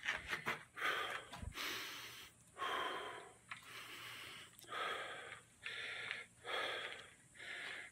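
Heavy, ragged breathing from someone out of breath after an 18-minute brisk walk: a run of loud, close gasping breaths in a steady rhythm, with short pauses between them.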